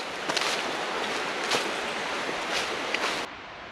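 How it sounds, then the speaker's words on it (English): River water rushing over building rapids along the River Leven near Milton of Balgonie, a steady broad outdoor roar with a few brief gusty surges, then dropping quieter near the end. "Sounds like there's rapids building."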